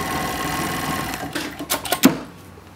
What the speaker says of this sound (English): Make the cover stitch up and down, and it trims and lifts the foot at the same time.